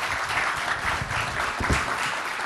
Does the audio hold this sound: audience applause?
yes